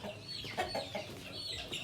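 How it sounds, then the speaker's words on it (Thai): A chicken on a small farm with ducks and a duckweed pond calls out in a short run of clucking, wavering cries, fairly close and moderately loud against steady outdoor background. "เมื่อกี้ไก่มันร้องครับ"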